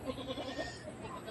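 Goats on a small farm bleat faintly in a few short calls over steady background noise, with no talk.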